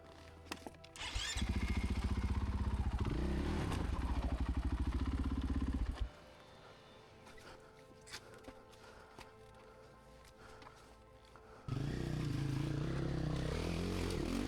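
Dirt rally motorcycle on a rough Appalachian trail, its engine revving loudly as the bike is spun around, then dropping to a quiet idle with clatter before roaring up again near the end.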